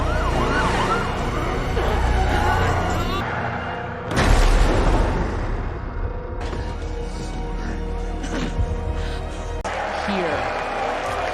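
An ambulance siren wails in a film scene, its rising and falling tone sounding loud and continuous over traffic and music, with a heavy low boom partway through.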